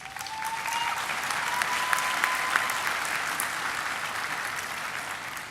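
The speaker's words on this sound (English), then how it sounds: "Let us give them a round of applause." Sustained applause from a large audience at a university graduation ceremony, steady and even throughout with a few sharper claps standing out.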